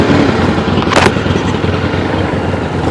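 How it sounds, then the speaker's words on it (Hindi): Motorcycles and superbikes pulling away together at the start of a group ride, a loud continuous engine rumble with a brief sharp rev burst near the start. "लगभग अभी सारी बाइकें निकल रही हैं।"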